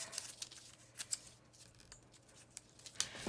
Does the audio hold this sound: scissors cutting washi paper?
yes